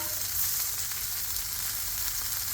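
Steak sizzling on a Blackstone griddle, a constant dense hiss close up with no breaks.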